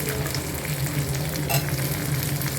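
Onions and garlic sautéing in a pan for a tamarind curry, a steady close sizzle and crackle throughout with faint stirring, no voices.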